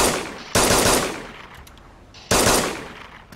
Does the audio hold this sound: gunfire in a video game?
yes